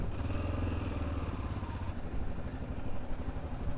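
Yamaha Ténéré motorcycle engine running steadily as it heads onto a dirt road near Praia da Pipa, a close, continuous mid-pitched drone with light clatter and no talking.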